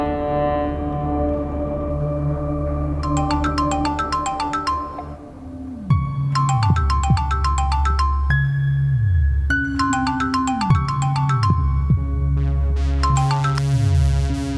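A loud electronic ringtone plays a repeating melodic pattern over a steady musical backing, cycling several times without pause.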